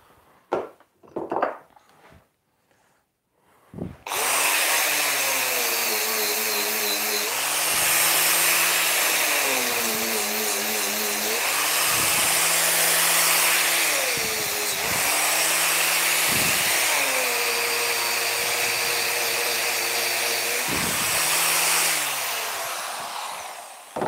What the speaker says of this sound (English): Is the air sander.